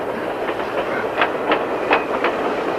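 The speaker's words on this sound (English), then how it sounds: "Riding on this train to freedom." A moving train clatters in rhythmic clickety-clack, regular wheel beats over the rails above a steady rumble, fairly loud and close, with no talk.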